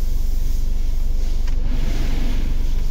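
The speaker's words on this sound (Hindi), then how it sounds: "सबसे पहले मैं गाड़ी चालू करके दिखा दे रहा हूँ" A 2022 Isuzu D-Max engine running after being started, a loud, steady low rumble with an even idle throb and no pauses.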